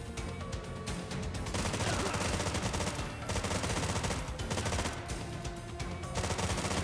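Constant rapid-fire gunshots from an unlimited-ammo weapon in the side-scrolling game Terminator 2D: No Fate, a dense, loud, continuous rattle with brief dips, heard alone without talk.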